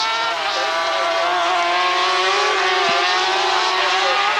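Sidecar racing machines on LCR chassis, powered by BRM Swiss Auto and ADM RD4 engines, scream continuously at high revs during a 1997 World Cup race at Most, a dense, loud, sustained engine roar throughout.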